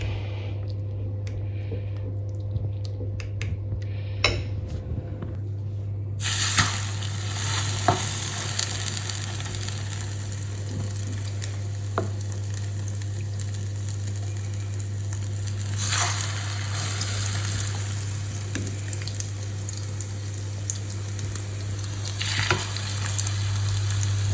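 Steady frying sizzle of a cutlet in a pan, with occasional stirring and scraping clicks, continuous and moderately close, no voices.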